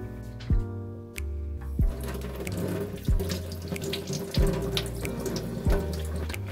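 Lemons rinsed under a running kitchen tap, a steady stream of water with a low mechanical hum and regular dull knocks every second or so.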